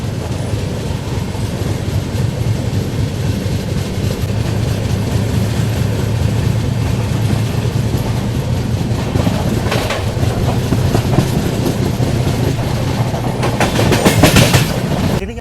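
A Humsafar express train running on rails, a loud continuous rumble with rhythmic wheel clatter and a brief metallic squeal near the end, heard close from on board.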